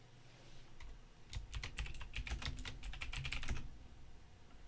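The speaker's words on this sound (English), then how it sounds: "I'm typing it right now, Sandollar." Quick bursts of typing on a computer keyboard, a few seconds of fast, close key clacks over a low background hum, with no speech.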